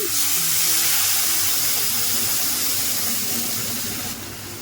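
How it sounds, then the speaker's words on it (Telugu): Hot water pours steadily into roasted semolina (rava) in a pan, a close, loud continuous splashing hiss that thins slightly near the end. "మూడు కప్పుల నీళ్ళు అయితే మనం పక్కన స్టవ్ మీద ఏడ్ చేసుకున్నానండి వేడి నీళ్ళు ఇందులో వేసేసుకోవాలి మనం"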